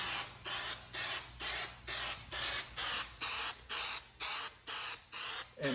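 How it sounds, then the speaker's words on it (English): Short hissing bursts of aerosol wall texture spray onto drywall, about a dozen in an even rhythm, close and fairly loud with brief gaps between. "you're going to have to keep moving when you spray it"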